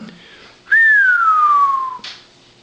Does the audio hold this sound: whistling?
yes